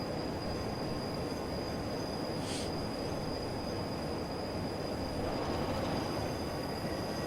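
Simulated train running on the Portsmouth Direct Line in Train Simulator 2015, a Class 33 or Class 08 locomotive: steady rolling rumble and wheel noise with a high squeal tone throughout and a brief brighter hiss in the middle.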